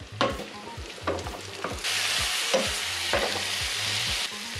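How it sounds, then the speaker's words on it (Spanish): Beans dropped into hot bacon grease sizzle steadily in a pan and are stirred, with scraping strokes over a continuous close frying hiss and a faint low hum beneath. "Ya que nuestro tocino haya tirado toda la grasilla que tiene, vamos a agregar nuestros frijoles."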